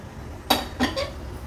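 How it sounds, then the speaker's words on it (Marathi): A fried sweet red pumpkin fritter being set onto a plate: three quick, close clinks of utensil against dish in a row, crisp and separate, with no talk. "आता ही घारी मी एका प्लेट मध्ये काढून घेते"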